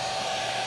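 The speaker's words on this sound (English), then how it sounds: "I can take something as simple as a hairdryer" A hair dryer heats reinforced gummed packing tape on a box, giving a brief, steady, close whooshing blow of air.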